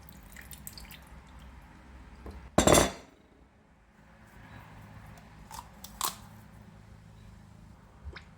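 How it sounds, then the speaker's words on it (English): A whole coconut is struck hard along its ridge lines to crack it open, giving one loud sharp knock followed later by a fainter second tap, with quiet indoor room tone between. "It's always tough to break the coconut, so trick here is hit it hard on the lines like this."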